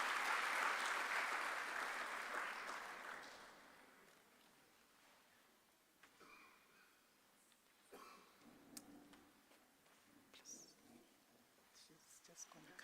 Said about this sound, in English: Can we please give her a round of applause as she comes forward?